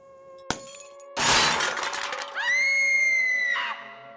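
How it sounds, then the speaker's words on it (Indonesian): Objects crash down and glass shatters in a kitchen, with a sharp knock followed by a loud burst of breaking glass and then a sustained metallic ringing that fades, heard alone at close range. "Dan ada suara benda yang berjatuhan nih dari arah dapur."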